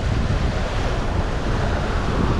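Strong wind of 20 to 30 knots and breaking waves at sea aboard a sailboat on a long solo passage, a loud, constant roar with buffeting wind noise on the microphone and no talk.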